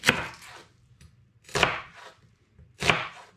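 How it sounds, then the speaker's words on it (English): Three crisp knife strokes chop onions into small pieces on a board, evenly spaced about 1.3 seconds apart, close and clear with quiet between them. "I'm going to begin by chopping my onions up into small pieces"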